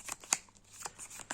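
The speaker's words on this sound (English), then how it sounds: "As you kind of shuffle through all the different options in your hand." Soft, quick flicks of a hand of playing cards, a handful of light papery snaps in uneven rhythm, faint and close with no one talking.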